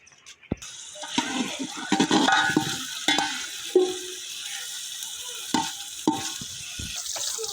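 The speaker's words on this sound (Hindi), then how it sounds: "तो प्याज और घी शामिल करके चूल्हे पे चढ़ा दिया इसको और प्याज को सुनहरा ब्राउन होने तक फ्राई करेंगे।" Onions frying in ghee in a pot on a stove, a steady sizzle with scraping and stirring clatters from a utensil, close and moderately loud without talk.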